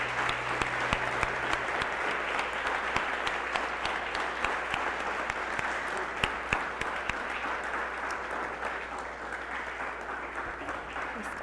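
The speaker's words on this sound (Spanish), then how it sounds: "Dale un aplauso, Señor." Steady, dense applause from a church congregation after a closing prayer, many hands clapping evenly for the whole stretch at moderate loudness, with a low hum underneath.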